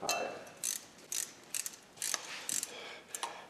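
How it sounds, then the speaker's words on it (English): A ratchet wrench tightens 10 mm bolts while an AC compressor, power steering pump and alternator are installed on a car, giving quick rhythmic bursts of clicking with short pauses between strokes, close and fairly quiet. "Now I just need to get a ratchet to tighten them up."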